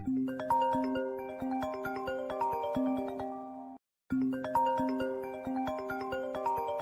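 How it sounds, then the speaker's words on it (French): Mobile phone ringtone playing a bright, repeating melodic chime pattern, clear and fairly close, looping twice with a brief silent gap between cycles and no voices. "Je vais d'abord répondre au téléphone."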